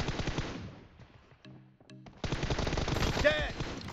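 Loud bursts of rapid automatic gunfire from the battle royale game BGMI in close combat, with a brief lull of lighter shots and clicks before the heavy fire resumes.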